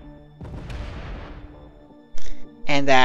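Torpedo striking and blowing up a ship in Space Engineers, a rumbling explosive blast fading out, followed by short bursts of sound near the end.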